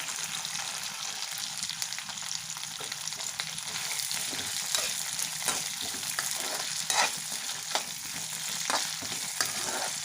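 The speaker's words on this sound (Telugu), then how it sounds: "పచ్చివి వేసినప్పుడు కాబట్టి కొంచెం టైం ఎక్కువ పడుతుంది నూనెలో వేగడానికి" Raw peanuts frying in oil for peanut chutney give a steady close sizzle, with frequent scraping and tapping clicks from stirring throughout, no talking.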